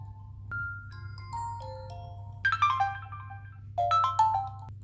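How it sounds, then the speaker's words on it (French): A Nokia Windows phone ringtone plays a bright electronic melody, followed by two quick bursts of rising tones over a low steady hum. "Sinon, t'as ce genre de sonnerie."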